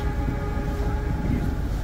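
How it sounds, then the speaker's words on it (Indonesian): The Joglo Semarkerto passenger train, running executive and economy cars, rumbles past as a loud steady roar with low rolling noise and a faint tonal whine throughout. "kereta api Joglo Semarkerto membawa rangkaian eksekutif dan rangkaian ekonomi"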